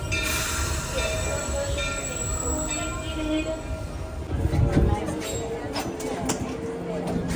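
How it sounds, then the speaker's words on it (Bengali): An amusement-ride train at Disney's Magic Kingdom rolls in with a ringing bell and rumbling, squealing wheels. Crowd noise and voices carry on throughout. "এই যে আসতেছে অনেক সুন্দর ঘন্টা বাজে একটা ট্রেন"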